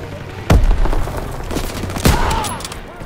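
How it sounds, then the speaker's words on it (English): Heavy WWII-era gunfire rattles through a Call of Duty WWII battle, with two sharp, loud bursts standing out over continuous shooting and rumbling combat noise. "Under heavy fire."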